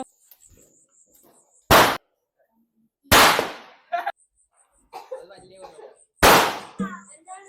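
Three sharp, loud firecracker bangs go off a second or more apart, each a sudden broadband blast, with brief voices and clatter between them, during Vishu festival celebrations in 2025.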